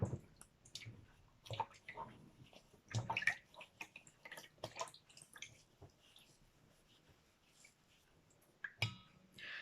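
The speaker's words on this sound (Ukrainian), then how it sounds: "А тепер в цій воді обмили" Soft splashing, sloshing and dripping of water as a soaped toy ball is swished and rinsed by hand, quiet and irregular, with a few faint voice sounds.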